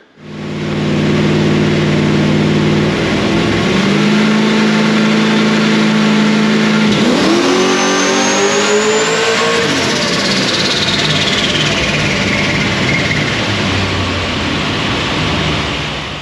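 A Vortech supercharged LS1 engine in a car revs loudly through a pull, its droning note climbing steadily, shifting, then rising again with a high supercharger whine, close and continuous with no talking.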